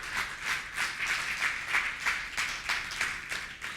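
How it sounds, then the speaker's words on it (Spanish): A church congregation claps in praise during a Spanish-language sermon, a loud, rhythmic pulsing of many hands beating in time throughout. "Dale un aplauso al Señor."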